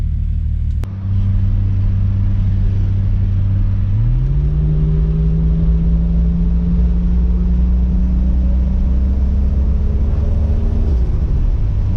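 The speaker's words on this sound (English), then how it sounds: "Take it for a quick little spin around the block, see how she does" Toyota Supra Mk3 car driving around the block: a loud, steady engine drone from inside the cabin, which steps up in pitch and rises after a few seconds, then holds a constant hum until it eases near the end.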